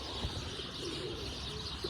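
Pigeons coo softly at Uçhisar in Cappadocia against a steady outdoor wash of noise, with a few faint chirps mixed in.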